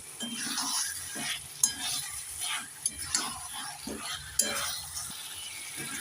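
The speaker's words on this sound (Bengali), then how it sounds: "এবার নেড়ে চেড়ে মশলার সাথে চিকেনটাকে তিন চার মিনিট ভালোভাবে কষে নেব" Chicken being stirred and fried with spices in a pan, with a steady sizzle and intermittent scraping stir strokes near the microphone, no one talking.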